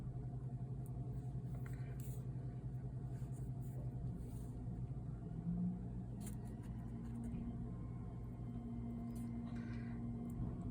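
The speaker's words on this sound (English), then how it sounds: "I have the garbage trucks here right now" Heavy garbage trucks rumble outside, a steady low engine drone with a faint whine, continuous and fairly loud throughout with no talk over it.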